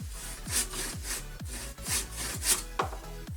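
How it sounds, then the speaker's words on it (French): A wooden batten being hand-sawn in two, close up, with steady back-and-forth strokes at a regular rhythm of roughly two per second, each a rasping scrape. "Je scie le tasseau en deux parties, une à 3 cm et l'autre à 2 cm."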